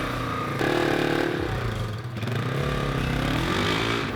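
A cheap used motorcycle engine runs on choke with a rough, uneven idle, a steady close mechanical drone with clattery texture and slight wavering pitch throughout.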